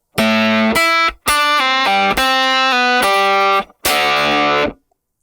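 A heavily distorted electric guitar plays a short riff of chunky power chords, several sustained hits separated by brief silences, loud and close.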